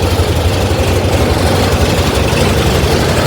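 A tractor engine idles close by, a steady, loud low-pitched rumble with an even throbbing pulse and no talk over it.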